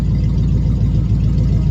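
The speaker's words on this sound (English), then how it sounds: "I might have the idling a little high." A small-block V8 in a classic truck idles steadily after a carburetor swap, vacuum leak repair and timing fix, a loud, close, even low rumble running throughout with no talk.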